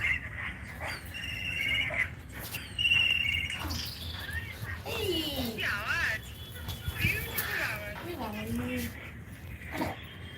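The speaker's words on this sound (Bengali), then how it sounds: "আমার চিলের আওয়াজ প্রচন্ড।" Kites call from nearby during a live outdoor feeding. Their whistling, wavering cries rise and fall several times through the second half, over a steady background hiss, with people talking at moments.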